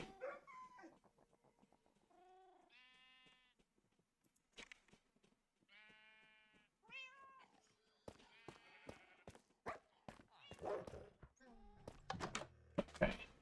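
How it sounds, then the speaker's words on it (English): Dogs whimper and whine in high, tonal cries, sometimes with bleat-like yelps, rising into a noisier, busier stretch of overlapping sounds near the end; they are at close range and fairly quiet, with no talk heard. "that was definitely just the dogs making dog noises"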